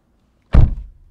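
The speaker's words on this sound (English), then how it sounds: "that door sounds pretty cheap when you close it" A Neta car door swings shut in one close, solid thunk that fades quickly into quiet.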